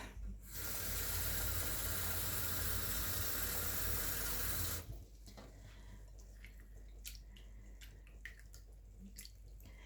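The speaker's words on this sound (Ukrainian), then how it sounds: "Зараз я її постараюся дуже добре промити холодною водою." Cold tap water gushes steadily for several seconds while rinsing pike roe, then stops, followed by quieter drips, splashes and handling sounds.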